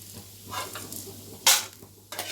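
Chana dal and other ingredients for gooseberry chutney roast in a dry pan, giving a quiet crackle and a couple of sharp scraping stirs against the metal.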